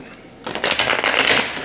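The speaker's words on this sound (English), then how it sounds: "we're going to shuffle" Tarot cards are shuffled briskly after a brief quiet start, a rapid papery riffling flutter lasting about a second.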